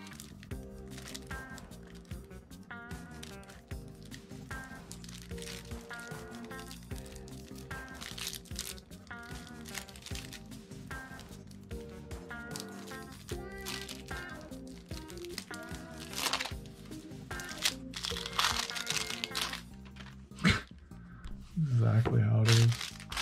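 Cellophane wrap crinkles and crackles around a packaged PSA graded trading card in close, repeated rustling bursts, with someone talking over much of it.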